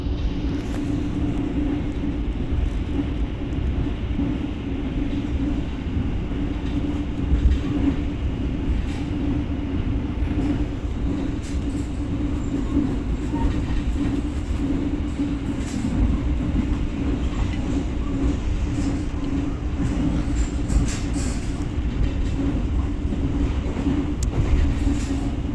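Continuous low rumble and steady rolling drone heard from inside a passenger train carriage on an Indonesian rail journey, unbroken for the whole stretch with occasional faint rattles and knocks and no talking.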